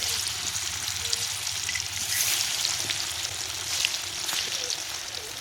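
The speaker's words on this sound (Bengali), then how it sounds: "তেল যখন খুব ভালোভাবে গরম হয়ে যাবে, এখন আমি দিয়ে দিব লবণ হলুদ দিয়ে মেখে রাখা মাছগুলো" Fish coated in salt and turmeric, pangas catfish, frying in hot oil: a steady, fairly loud sizzle and crackle with scattered pops that continues throughout.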